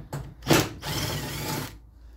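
Hand or power tool working on the screws of a Land Rover Series 3 tank cover plate, a short buzzing burst followed by a steadier whirring run of about a second, close and fairly loud.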